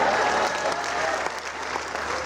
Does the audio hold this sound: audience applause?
yes